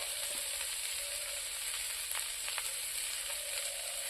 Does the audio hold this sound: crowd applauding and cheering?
no